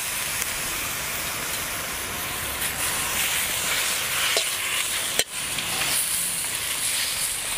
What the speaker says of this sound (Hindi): इस चर्बी के अंदर अच्छा सा हमने इसको पहले भूनना है